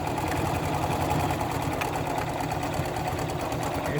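A sewing machine stitching across a cotton and lace quilt block, its steady rapid mechanical whir running continuously at moderate volume, with a slight bump partway through.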